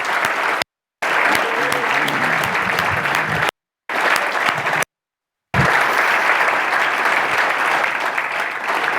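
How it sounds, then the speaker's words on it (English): Loud, dense applause from a conference audience for the NetHope Summit staff, sustained and even, with a few short dropouts of silence breaking the continuous clapping. "let's give them a round of applause"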